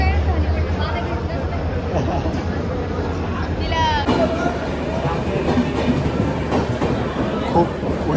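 A passenger train rolls along the rails at night, heard from inside a carriage as a loud, continuous rumble with rhythmic clatter, under the babble of passengers talking.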